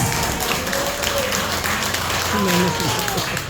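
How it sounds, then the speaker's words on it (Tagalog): Church congregation applauding during a Sunday worship service, a dense, sustained round of clapping from many people, loud and close, with voices mixed in. "So isang palakpak para sa Diyos!"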